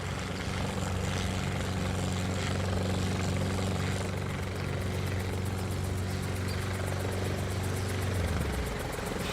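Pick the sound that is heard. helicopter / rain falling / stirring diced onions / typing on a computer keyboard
helicopter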